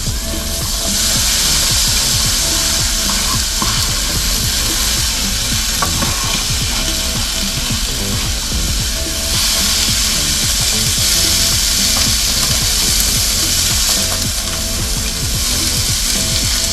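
Vegetables sizzle steadily in canola oil in a hot pan, a loud, continuous crackling hiss close at hand, with occasional scrapes and stirring clatter underneath.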